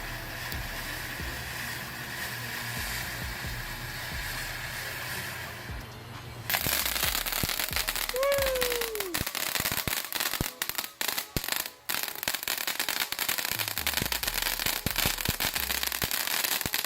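A Short Stack firework fountain burns outdoors: a steady hiss gives way to loud, dense crackling bursts with a rising whistle, continuing for several seconds.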